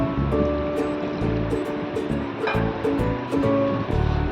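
Water is stirred into cornflour in a small bowl, giving a close, wet sloshing and scraping that swirls in a steady rhythm for a few seconds.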